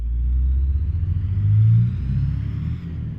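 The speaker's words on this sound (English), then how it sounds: "This is actually a really nice sounding truck." A truck engine in Euro Truck Simulator 2 drives with a steady, loud low rumble, rising slightly in pitch as it pulls, then easing off near the end. No talk is heard.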